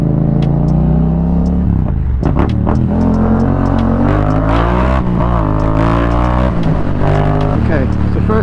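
A motorbike in first gear pulls away as the throttle is eased open, its engine note rising steadily in a smooth rev with shifting harmonics, loud and close, while a person talks over it.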